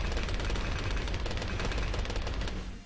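Towers firing rockets in the Bloons TD5 tower-defense game, a dense, continuous rattle of rapid launches and impacts that stays loud and steady before tapering at the very end.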